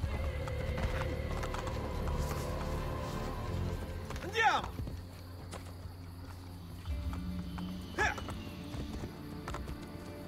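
Horse hooves clip-clopping in the video game Assassin's Creed Brotherhood, faint and steady beneath game ambience, with a couple of whinny-like calls and a voice talking over it.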